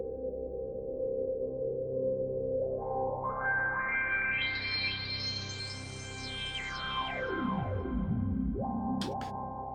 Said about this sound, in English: Stick some delay on.